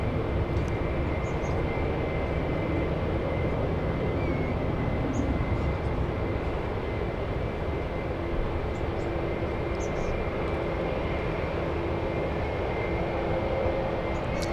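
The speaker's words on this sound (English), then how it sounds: "have the French A350 making an appearance here on the ones" An Air France Airbus A350 jet at San Francisco International Airport, departing for Paris Orly, with a steady broadband engine roar that holds constant throughout, distant and unbroken.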